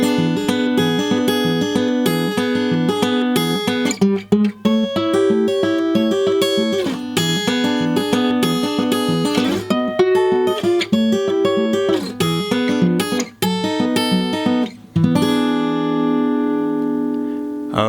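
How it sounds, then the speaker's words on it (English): An acoustic guitar plays a blues fingerpicking pattern in E at full speed, with a ragtime turnaround and a steady bass under picked melody notes. The playing is close, loud and continuous, ending on a ringing chord. "I'm going to get started by demonstrating this for you at full speed."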